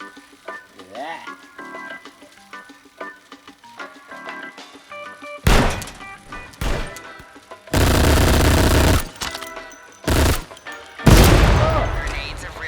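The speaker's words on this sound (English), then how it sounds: "Let's go to the range and practice shooting." Virtual gunfire at the practice range in the PSVR shooting game Shooty Fruity, with loud bursts of rapid shots and booms broken by quieter gaps under game music.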